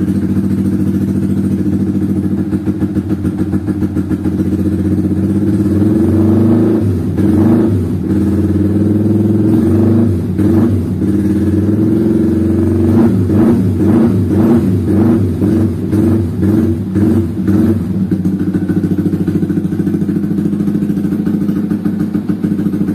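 A vehicle engine with nearly 50,000 km, freshly cleaned without being taken apart, runs loud and close at idle. It rises and falls through several revs in the middle before settling back to a steady idle.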